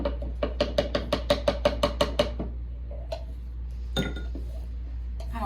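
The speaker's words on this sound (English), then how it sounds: "Trying to scoop that back in the can." Spilled homemade chalk paint scooped back into its can, a quick run of about a dozen regular metallic taps and scrapes, then a couple of isolated clinks over a low steady hum.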